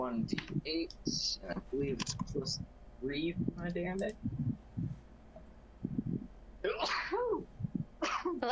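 A sneeze breaks out during a tabletop Dungeons & Dragons game session, brief and close among players talking around it.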